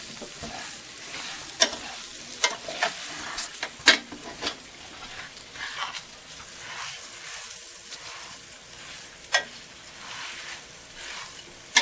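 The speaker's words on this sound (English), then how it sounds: "Keep moving it around, browning it." Seasoned food browning in a frying pan, a continuous crackling sizzle broken by sharp scrapes and knocks as it is stirred around, close and fairly loud with no one talking.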